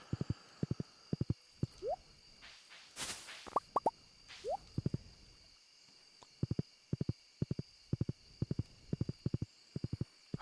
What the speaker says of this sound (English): I'm the only one with a horse to go thundering past her front door in town